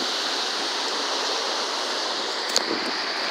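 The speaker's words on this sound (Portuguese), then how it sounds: "A onda d'água aí, olha a parede." Rushing flood water of the Guaribas river in Picos, a dense continuous roar heard close and steady throughout, with a brief knock near the end.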